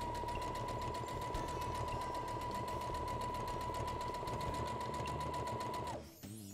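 Domestic sewing machine stitching fabric layered with acrylic batting along a pencil-marked line for a cloth diaper holder, a steady close mechanical whir with a fine rapid needle rhythm and a tonal hum, running continuously then stopping abruptly.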